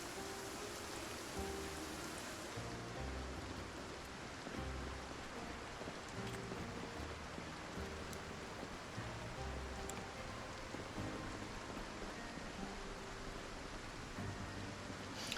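Heavy rain pours steadily in a survival video game world, a dense, continuous hiss that stays loud and even throughout with no voices over it.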